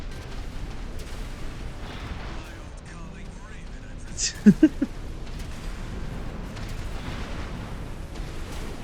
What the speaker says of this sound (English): I like the amount of explosions this thing causes.